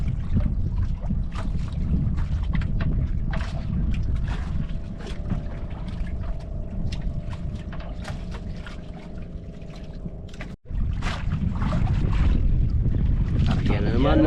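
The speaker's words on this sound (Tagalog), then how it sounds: "Lakas ng hangin." Strong wind roars and buffets the microphone over a low rumbling boat engine, with a brief dropout near the end.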